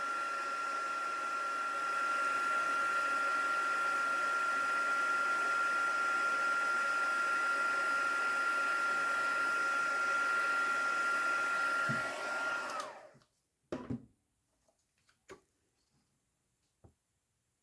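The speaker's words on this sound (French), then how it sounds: "je reprends et je viens chauffer là où j'ai mis la poudre" A heat tool blows a steady, loud whirring hum for about twelve seconds to melt embossing powder, then switches off and leaves a few faint clicks and knocks in near silence.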